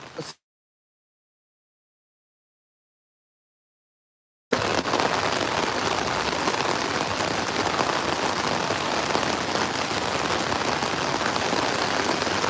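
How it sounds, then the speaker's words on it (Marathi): Heavy monsoon rain in Virar, near Mumbai, pours down steadily and loudly after a brief silent gap, a dense, continuous hiss of drops on a surface. "मुंबईमध्ये सुद्धा बऱ्यापैकी पाऊस पडतो आहे"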